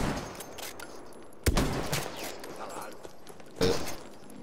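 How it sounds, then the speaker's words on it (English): Sniper rifle shots in an online shooter game ring out as two sharp cracks a couple of seconds apart, each followed by a short echoing tail, over a quiet battlefield bed. "Mate, that was a sick shot."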